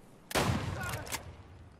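A single loud gunshot cracks out close by in the shooter game Escape from Tarkov, followed by a short rumbling tail and a second fainter burst of fire as the echo fades.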